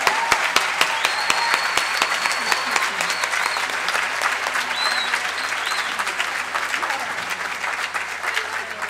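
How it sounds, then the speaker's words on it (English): Sustained applause from a conference audience at the opening of a parents' association event, steady dense clapping filling the room with faint voices mixed in. "could we just give them a huge round of applause?"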